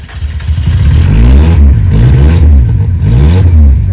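A V8-swapped Toyota Corolla engine revs loudly and repeatedly, its deep roar rising and falling in surges close by, with no one speaking.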